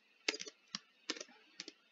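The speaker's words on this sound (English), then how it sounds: "My typing is just the worst." Fast keystrokes on a computer keyboard come in four short clustered bursts of clicks, quiet and close, with no voices.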